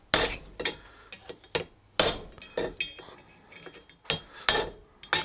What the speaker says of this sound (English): I'll use this and just my chisel, and I'll drive that other bearing down